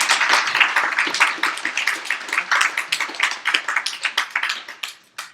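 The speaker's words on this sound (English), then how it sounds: "Can we give these guys a round of applause?" Audience clapping for two speakers at a talk, an uneven patter of individual claps from a modest crowd that is fairly close and gradually loosens and fades toward the end.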